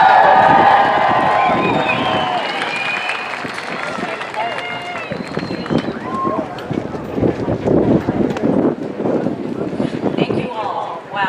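Before the national anthem at a large outdoor event, a crowd roars and cheers in a broad, sustained wash of noise, with an amplified voice talking over it.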